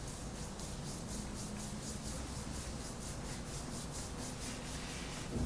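Hands smoothing over a clothed leg during shiatsu, a close, steady soft rubbing and brushing of fabric with a faint rhythmic swish, no talking.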